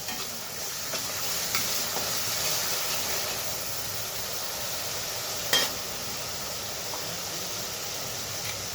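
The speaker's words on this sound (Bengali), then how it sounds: "তো ভালোভাবে নেড়ে চেড়ে চিকেনগুলো দিয়ে দিলাম।" Chicken pieces fry in a pan with onion paste, a continuous soft sizzle and hiss with light scraping as the mixture is stirred, one sharper clink midway, no speech.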